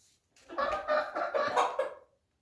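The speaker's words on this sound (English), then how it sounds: "A few chuckle clucks there." A backyard chicken gives a short, close run of soft, contented clucks, several quick notes in a row followed by a fade to quiet.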